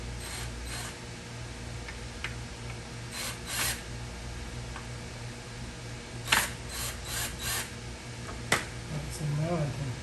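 A Ryobi cordless drill loosens screws on a three-level shelf during assembly, giving short whirring and ratcheting bursts against a steady background hum, with a cluster of louder bursts near the end.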